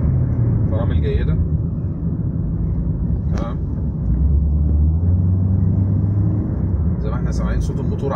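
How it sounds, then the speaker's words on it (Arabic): A Mitsubishi Lancer Shark's engine drones loudly and steadily while the car is driven, with a constant low rumble, wind and road noise throughout. "احنا سامعين صوت الموتور عالي قوي عندي"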